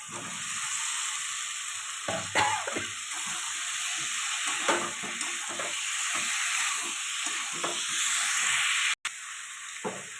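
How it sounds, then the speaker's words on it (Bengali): Fried potato and pointed gourd go into sizzling masala for a fish curry, producing a steady hissing fry with intermittent stirring scrapes and a brief cutout near the end, moderately loud and close, with no speech. "আলু পটলটা ভেজে রেখেছিলাম, ওটা দিয়ে দেবো"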